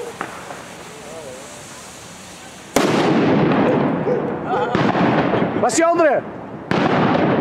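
Fireworks go off outdoors at a Valencia celebration: a sudden loud blast, then dense crackling bursts and a whistling rocket rising, with two set off together. People talk over the din.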